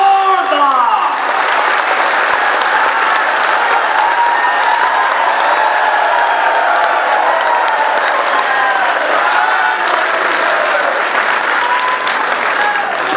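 A large crowd at a Hareli rally in Chhattisgarh in 2023 claps steadily and loudly for the full length, a dense continuous wash of applause with a few raised voices mixed in.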